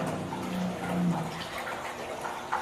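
Water being stirred and aerated in a container, a steady sloshing, bubbling wash of liquid heard close and fairly loud throughout, with no talking.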